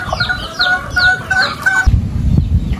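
Hens cluck in a rapid series of close, bright calls, followed by quieter shuffling and a thump with no clucking.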